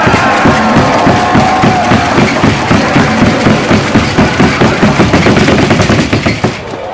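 A baseball stadium crowd at Gwangju Champions Field applauds and cheers, a loud, fast, rhythmic barrage of massed claps or strikes under a roaring wash of voices, sustained and close before easing slightly at the end.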